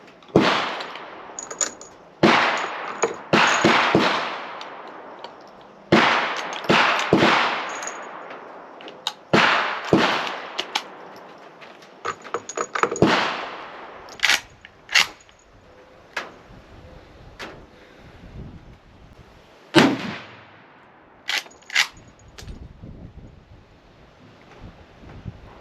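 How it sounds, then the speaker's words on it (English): A Winchester Model 1886 lever-action rifle in 45-90 fires 325-grain rounds at an outdoor range, giving a series of loud, sharp near shots spaced a few seconds apart, each with a quick decaying echo. "Well, those lever revolutions typically have a fair amount of recoil"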